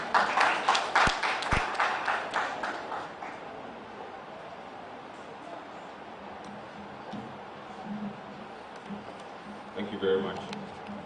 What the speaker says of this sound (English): Shall you please welcome him with a round of applause.